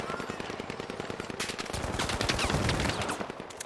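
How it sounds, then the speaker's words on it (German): Rapid automatic gunfire from the shooter game The Finals rattles in dense, continuous bursts close up, swelling louder toward the middle with no talk over it. "Wer schießt denn hier auf mich?"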